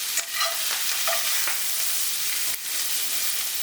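Filet mignon rubbed with herbs and spices sizzles in butter in a pan, a loud, steady hiss broken by a couple of brief scrapes from a spatula or tongs.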